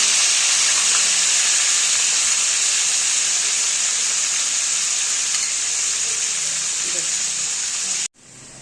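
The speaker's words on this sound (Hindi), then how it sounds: "ये अदरक लहसुन जो बाकी का बचा हुआ था, ये मैं हल्की आंच पे कर रही हूँ, इसे भूनेंगे" Leftover ginger and garlic fry on low heat for beef kofta curry, a constant loud hiss of sizzling oil that cuts off abruptly near the end.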